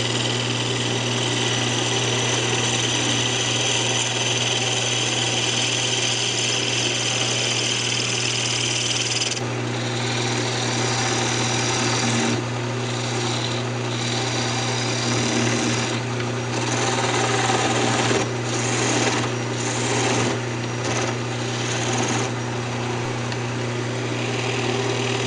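A wood lathe spins steadily with a constant mechanical hum while a tool cups out the inside of a wooden mushroom box, scraping and cutting in intermittent bursts, no talk.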